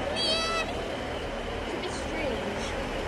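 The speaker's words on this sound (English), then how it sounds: "The noise seems very odd on these for the door open noise." The door-open warning on a Northern Class 156 train at Sunderland station gives a brief, high, meow-like electronic tone at the start, followed by steady platform and engine rumble with a voice talking.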